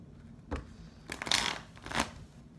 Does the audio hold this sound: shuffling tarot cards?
yes